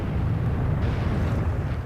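An artillery shell explodes in the World of Tanks video game, a dense low rumbling blast that rolls on for the whole two seconds at steady loudness, with no talking.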